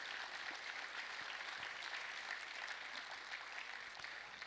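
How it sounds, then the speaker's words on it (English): Applause for a former Speaker at an official Independence Day ceremony in a capital courtyard, a steady wash of many hands clapping, fairly faint and distant, continuous throughout without talk. "So let's give him a round of applause for being with us after 30 years."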